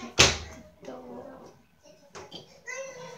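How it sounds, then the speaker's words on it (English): A household door shuts with one sharp, close thud near the start, followed by someone talking in a quiet room. "Shut the door."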